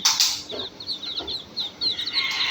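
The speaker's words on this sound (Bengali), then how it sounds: "মুরগিগুলো হাঁটতে আছে বাচ্চাগুলো দেখো কিভাবে মাটিগুলো গর্ত করে" Hens cluck softly while chicks cheep in quick high peeps, close by and continuous over a quiet outdoor background.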